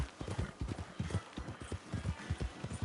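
Horse hooves clip-clop in Red Dead Redemption 2, a quick, steady rhythm of soft thuds close by, repeating evenly throughout with little else around them.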